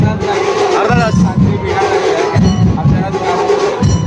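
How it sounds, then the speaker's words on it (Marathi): Dense crowd noise at a Ganpati immersion procession in Mumbai, with a 22-foot idol, a sustained roar of many voices cheering and shouting, loud and continuous with surging peaks throughout. "हे बघा गाजावाजा चालू आहे तिकडे"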